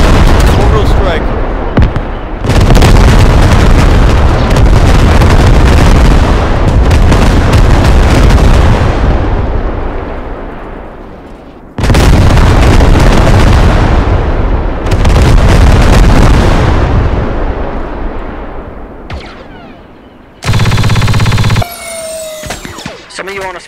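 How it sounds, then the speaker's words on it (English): Mortar strikes in a Galactic Contention video game match, loud repeated booming blasts in two long bursts with rumbling decay, voices talking over parts of the action. "Mortar strike."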